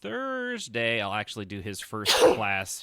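A single sharp sneeze bursts out close by, just after a voice speaking.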